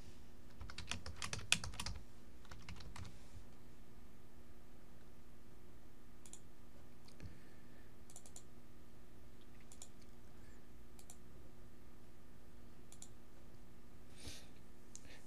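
Keys tapped on a computer keyboard as an equation is entered, with a quick flurry of clicks at the start followed by sparse, faint keystrokes over a quiet background.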